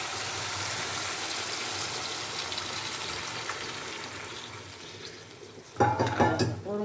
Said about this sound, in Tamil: கொஞ்சம் முழுகிற வரையும் வேகிறதுக்கு தண்ணி ஊற்றிக்கலாம்